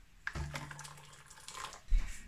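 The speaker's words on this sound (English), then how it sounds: "So I've just boiled water, so I'm just going to pour it in a" Freshly boiled water being poured into a bowl, a brief, close splashing pour with a second gush near the end.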